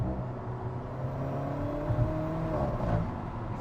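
Alfa Romeo 4C sports car engine droning steadily, with rising and falling pitch as the revs climb, fairly loud and continuous with no voices over it.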